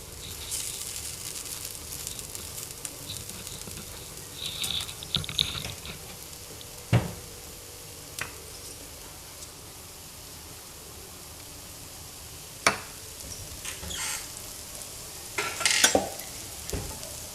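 A paneer masala dosa cooks on a pan with a faint, steady sizzle, broken by occasional light scrapes and clicks.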